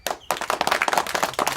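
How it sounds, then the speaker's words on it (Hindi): A small group of people clapping hands during a village community session in Azamgarh district, close, quick uneven claps that start after a brief pause and continue in a lively burst. "तो चाचा जी के लिए ताली मारो।"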